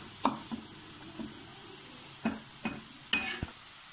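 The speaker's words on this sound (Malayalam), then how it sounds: "നമ്മളിങ്ങനെ ഇടയ്ക്കിടയ്ക്ക് ഇളക്കി കൊടുത്തുകൊണ്ടിരിക്കുക" Sliced onions fry quietly in oil for beef vada as a spoon stirs now and then, giving a few faint, separate scrapes and taps against the pan over a soft background sizzle.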